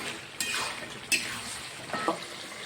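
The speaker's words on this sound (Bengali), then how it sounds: "চিকেনটা কষানো হয়ে গেছে আলু দিয়ে দেবো আলু দিয়ে একটু কষে নেবো" Chicken and potatoes being stirred and fried in a pot for a white akhni biryani with masoor dal, with a soft background sizzle and a few scraping strokes of a spoon against metal, close and alone.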